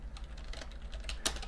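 Quick keystrokes on a computer keyboard make an uneven run of light clicks. One sharper tap stands out near the end, over a quiet room hum.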